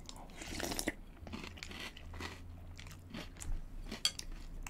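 Crunchy cereal with oat milk being chewed close to the mic, a series of loud crisp bites and crunches in an uneven rhythm with quiet pauses, no talking.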